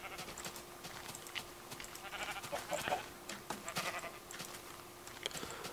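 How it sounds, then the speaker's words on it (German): Several sheep in the game Minecraft bleat in short calls scattered over a steady background hum, moderately close, with no talking. "Und ein paar Schafe"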